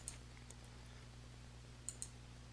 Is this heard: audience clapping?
no